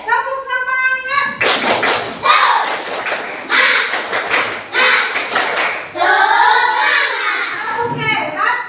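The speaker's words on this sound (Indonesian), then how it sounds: "Tepuk semangat." Schoolchildren in an Indonesian classroom perform a rhythmic spirit clap routine, loud claps in quick patterned bursts mixed with thumps and the children's chanting voices, nearby and lively throughout.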